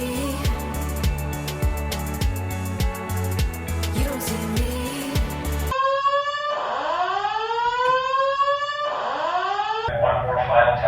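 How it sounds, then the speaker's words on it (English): A building fire alarm system under test at a college residence, sounding as repeated descending electronic whoops that follow a dense stretch of rhythmic beeping tones, loud and continuous throughout with no one talking over it. "One more final test of the fire alarm system."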